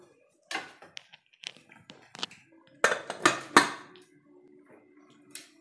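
A metal lid is set and closed on a cooking pot of mushroom biryani, several close clanks and clinks of metal on metal in quick bursts, with quiet gaps between.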